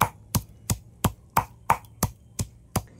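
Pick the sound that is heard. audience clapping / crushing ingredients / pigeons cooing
crushing ingredients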